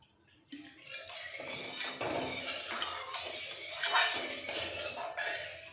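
Masala and water being stirred in a kadai on the stove for a healthy chicken curry, with close clinks and scrapes of a utensil against the metal pan and a soft wet sizzle running steadily throughout.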